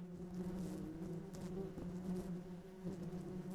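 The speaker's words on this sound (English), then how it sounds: "Oh, I hear bees. I hear bees." Bees buzzing in a horror video game, a constant droning swarm hum with wavering pitch, steady and moderately close, with no talk over it.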